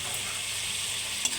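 Fried potatoes are stirred and sautéed with spice paste in a hot pan, a dense close sizzle with a brief scrape of the spoon near the end.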